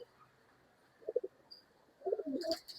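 Home-raised pigeons kept for sale give soft, faint cooing in two short bursts against a quiet background.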